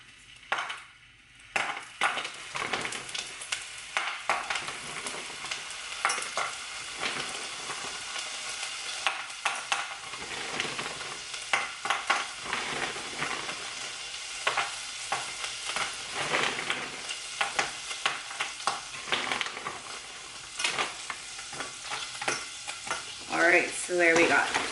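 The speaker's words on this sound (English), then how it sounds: "start by putting the shrimp into the pot and letting them cook for a little bit before I add in the spinach" Thirty shrimp cook in a pot for a spinach dish, giving a steady close sizzle for a long stretch, broken by repeated scraping and stirring clatters, with no talk.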